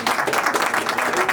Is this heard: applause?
yes